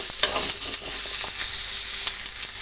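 Onion and radish frying in a pan, loud close hissing sizzle with brief scraping stirs, steady throughout and no voices.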